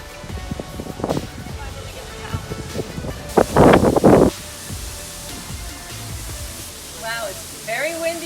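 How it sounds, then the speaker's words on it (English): Strong wind buffets a beach resort, gusting hard against the microphone in a loud burst midway with rushing noise throughout, while people talk briefly at the start and end. "it's very windy today"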